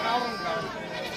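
Osmanabadi goats bleat at a busy livestock market in Shirur taluka, Pune district, in a short continuous burst of close animal cries over a crowded, chattering background.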